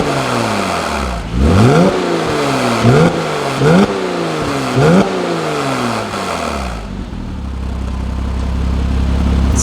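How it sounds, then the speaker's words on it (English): A Porsche Cayman with a Soul Performance catback exhaust revs hard four or five times in quick bursts, each climbing and dropping back, before settling into a deep, rumbling idle. "I want to show you guys what the Soul Performance exhaust sounded like"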